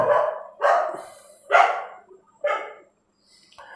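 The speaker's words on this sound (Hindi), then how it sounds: "कुत्ते भौंक रहे हैं थोड़ा सा।" Dogs bark close by in four loud separate bursts, with short gaps between them, and a fainter fifth yelp at the very end; no one speaks.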